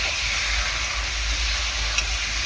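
Loita (Bombay duck) fish frying in spice masala in a kadai, giving a continuous close, loud sizzling hiss with no talking.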